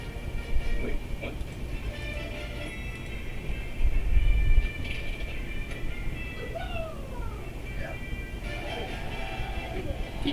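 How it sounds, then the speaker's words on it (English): Trains featured in an advertisement, their steady rumbling rail noise running under a layered music-and-effects bed, with a swelling surge near the middle and sliding whistle-like tones toward the end. "Trains."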